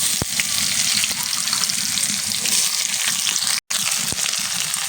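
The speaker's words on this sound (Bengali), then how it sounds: "এবার দিয়ে দেবো পেঁয়াজ কুচি," Chopped onions and a bay leaf fry in very hot oil for a prawn and potato curry, giving a loud, dense, steady sizzle up close that breaks off for a moment before resuming.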